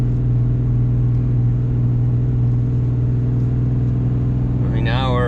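RAM 3500 Cummins diesel pickup towing 30,000 lbs up a steep snowy hill, a heavy, steady low engine drone held in one gear, loud and constant, with a voice beginning at the very end.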